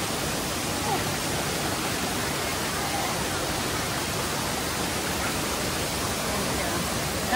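Continuous rushing water of Bulawan Falls roars evenly throughout, a dense broadband wash from the nearby mountain waterfall, with faint voices barely audible beneath it.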